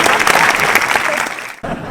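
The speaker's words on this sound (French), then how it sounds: "j'aimerais qu'on applaudisse très fort Magali" Theatre audience clapping loudly for a performer named Magali during a stage show, a dense burst of applause that fades, briefly drops out, then resumes.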